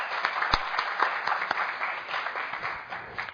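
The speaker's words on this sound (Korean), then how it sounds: "큰 박수로 한번 맞이해 주시기 바랍니다" Lecture hall audience welcomes a professor with steady applause, many hands clapping at moderate volume with a few sharper individual claps standing out.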